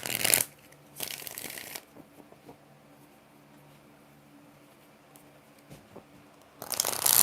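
A deck of tarot cards is riffled and shuffled in loud, crisp bursts: one at the start, a longer one shortly after, then a quiet stretch before a final burst at the end.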